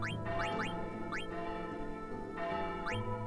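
Chiming bell tones in Final Fantasy IX, ringing over sustained game music and joined by several quick rising glissando flourishes, steady and moderately loud.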